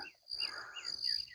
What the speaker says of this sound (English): And birds chasing each other.